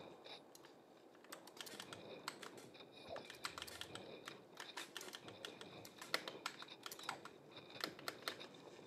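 Rapid clicky keystrokes on a small gaming keyboard, irregular bursts of sharp taps continuing for several seconds, fairly faint with no talk.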